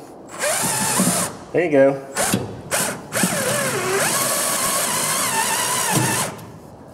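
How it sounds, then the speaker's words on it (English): Cordless drill driving into a mason's form while installing Ironhaus fireplace doors, whirring loudly and steadily for several seconds with a brief stall and rapid ratcheting clicks partway through, while people talk nearby. "You gotta hold the drill straight or it ain't gonna go in straight."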